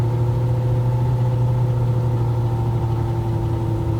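A Nissan Altima that is down on power is floored in first gear, its engine a loud, close, steady drone with a low hum that holds nearly level throughout, with no talk.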